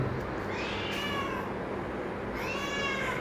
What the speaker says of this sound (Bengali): ম্যাও